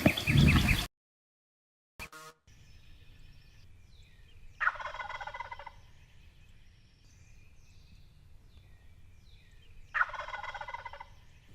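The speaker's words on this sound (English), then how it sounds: "we've got birds gobbling all around us" Wild turkeys gobble outdoors in two distinct bursts, moderately distant, over a quiet rustling background, after a brief loud noise at the start.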